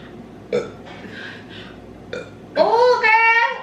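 A loud, drawn-out burp erupts near the end, preceded by shorter vocal sounds and brief noises, close to the microphone in a casual indoor setting during a meal.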